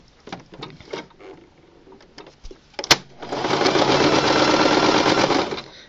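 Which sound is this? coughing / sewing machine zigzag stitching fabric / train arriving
sewing machine zigzag stitching fabric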